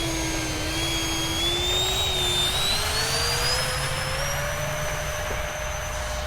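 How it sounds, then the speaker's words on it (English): Turbine whine of an E-flite Habu SS RC model jet with afterburner effect, a steady loud roar with rising high-pitched whistles as throttle shifts, continuous throughout with no talk. "RC Geeks afterburner in there."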